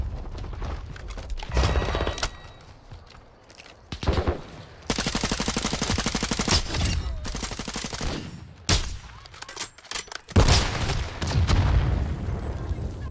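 Call of Duty Modern Warfare 2 multiplayer gunfire: rapid automatic bursts and single loud shots with booms, dense and close, continuing through most of the stretch.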